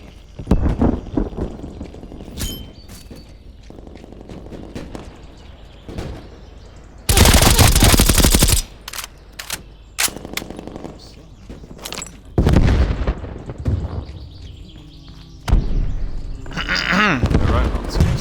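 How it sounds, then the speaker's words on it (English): Incoming artillery explosions in the Call of Duty Cold War open beta, a loud sustained blast burst followed by several more booming impacts and bursts of gunfire, with a voice speaking intermittently throughout. "incoming artillery"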